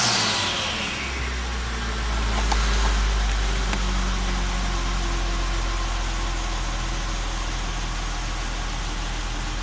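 A Volvo XC90 engine fires after a long crank and settles into a steady idle, the low rumble loud and continuous right up close with no talking over it.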